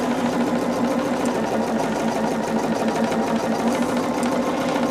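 Sewing machine stitching two contrasting quilting fabrics together at a quarter-inch seam, a steady, fast mechanical whir that runs continuously at close range with no pauses.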